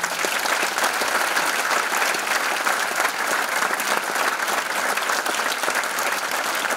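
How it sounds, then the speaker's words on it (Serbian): Dense, steady applause from a large audience at a school's tenth-anniversary ceremony, loud and continuous from start to finish with no break. "Čestitamo i pozdravim jednim velikim aplauzom."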